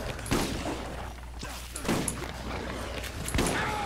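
Scattered gunshots from the video game Borderlands, a few separate sharp cracks spaced about a second apart over a busy game background, with people talking.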